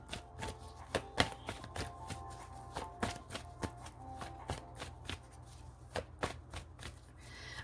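Archangel Michael oracle cards are shuffled by hand in quick irregular riffles and taps, close and fairly quiet, with no talking.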